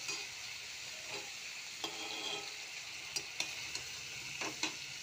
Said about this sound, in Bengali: ব্যাস, একটু নাড়াচাড়া করে দিই।